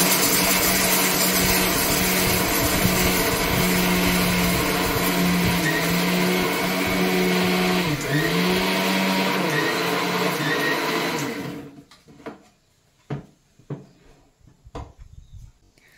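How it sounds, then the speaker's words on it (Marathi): A kitchen mixer grinds roasted peanuts, green chilies and salt in a loud, steady whir lasting about eleven seconds, then stops abruptly and leaves a few faint clicks and knocks. "हे मी मिक्सरला बारीक करून घेते"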